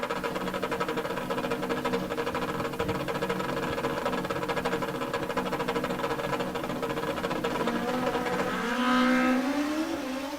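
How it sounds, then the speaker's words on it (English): Motorcycle drag race between a nitrous-assisted Kawasaki ZX14 and a Suzuki GS, heard as a steady loud engine drone from the bikes down the strip, rising into a higher-pitched rev near the end. "It's a good old-fashioned drag race"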